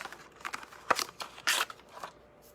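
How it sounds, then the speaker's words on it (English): Scissors cutting ribbon, several crisp snips and crunching cuts in quick uneven succession, close and fairly loud with no talking. "So nice that I designated scissors for ribbon over here."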